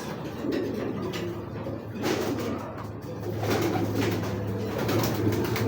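Racing pigeons coo in a steady low murmur, several birds close together with repeated throaty calls layered over one another, plus occasional soft rustles and knocks.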